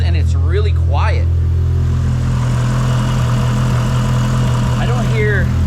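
Mitsubishi Evo 8 built to 550hp with a twin-disc clutch idles in a smooth, quiet, steady low rumble, with someone talking over it near the start and again at the end.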